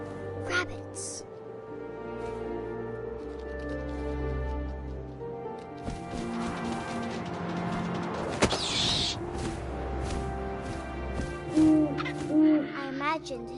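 Owl hoots in What Remains of Edith Finch, sounding over a steady layer of wind and game ambience, with a narrating voice talking throughout.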